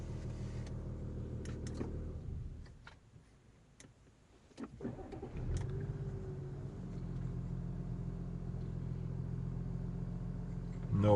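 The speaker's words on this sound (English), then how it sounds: "Car starting fine," An Audi A7 with an engine start system fault starts by keyless ignition, a brief dip and whir followed by a steady low idle that settles in and keeps running, heard close up.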